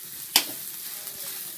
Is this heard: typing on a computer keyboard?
no